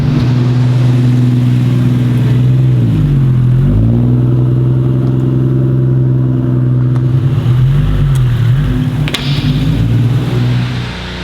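A car driven with a loose brake caliper: a loud, steady engine drone that rises and falls in pitch a few times, continuous with no voices.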